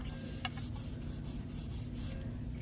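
A folded paper gift box is burnished by hand, giving soft, close rubbing strokes in a quick repeating rhythm over a low steady background hum.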